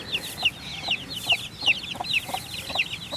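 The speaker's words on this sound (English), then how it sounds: "See if I can find Mama Hen" Repeated calls of a mother hen clucking in a garden, a quick rhythmic series, close and moderately loud, with no talking.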